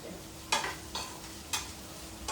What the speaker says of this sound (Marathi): इथे हे बघा कांदा चांगला आपला फ्राय झालेला आहे